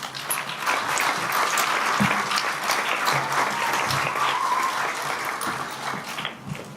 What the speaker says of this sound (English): Give a round of applause for the leader of the Winky Guards.